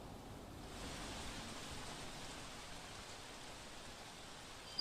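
Heavy rain shower pouring down in Navsari, a steady even hiss of rainfall with no voices, ending in a short louder burst.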